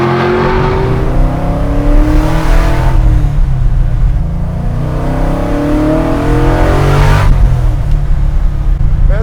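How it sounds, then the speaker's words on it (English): A fully built, caged 1967 El Camino accelerates on a drive, its engine loud and close, rising in pitch through two long pulls with a shift between them. "Now, let's go for a drive."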